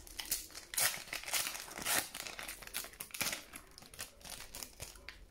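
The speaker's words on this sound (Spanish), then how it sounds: "Ahora vamos a abrir los dos sobres de Megacrack" Megacrack 21-22 football sticker packets are torn open by hand with close, crisp crinkling and ripping bursts of foil wrapper in quick irregular bursts.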